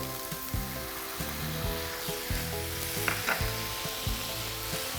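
Shiitake mushrooms stir-fry in a hot pan with a steady soft sizzle and occasional stirring clicks, set under a quiet, rhythmic background music track.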